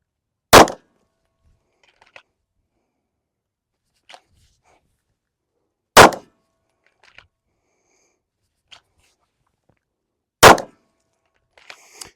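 Three sharp, loud handgun shots fired at a range during bowling-style draw practice, each a single crack about five seconds apart, separated by near silence and faint handling clicks.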